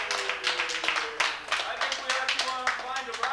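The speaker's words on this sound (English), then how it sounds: "We should give Brian a round of applause one more time." A small group claps in a quick, uneven burst at a 1987 UMass Cashin water fight, the sharp hand claps fairly close, with voices talking over them.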